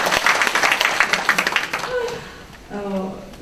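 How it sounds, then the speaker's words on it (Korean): At a political book concert in Daegu, an audience breaks into brisk applause that fades after about two seconds, and then a voice speaks. "박수 한번 보내주십시오"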